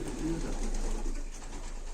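Turkish tumbler pigeons coo softly at close range, the low throaty calls blending into a quiet room background.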